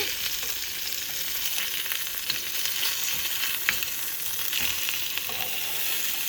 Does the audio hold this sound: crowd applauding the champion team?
no